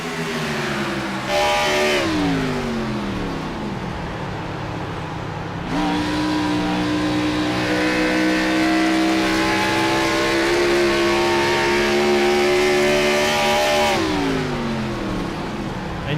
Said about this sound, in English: Wide open throttle on the straightaway.